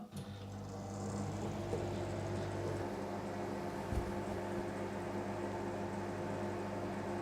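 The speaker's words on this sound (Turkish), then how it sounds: "Mikrodalga gücünü 800'e getiriyorum. Ve 1 dakika olarak ısıtacağım." A microwave oven heats a cup of water at 800 watts, a quiet steady hum and fan whir that starts after a brief click and runs evenly, with a small thump near the middle.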